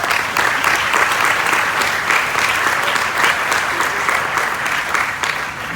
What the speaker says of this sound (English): So a round of applause for all today's efforts.